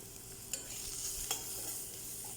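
Chilli, coriander and turmeric powders being mixed in a pan, heard as a faint steady sizzle with a couple of soft scraping ticks from the spoon.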